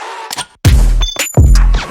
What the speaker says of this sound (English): I duplicated the shell sound and I just pitched it down